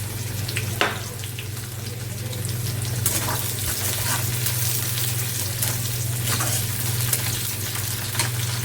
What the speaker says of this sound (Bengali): পেঁয়াজটা ভাজা হয়ে গেছে, দিয়ে দিচ্ছি ভাজি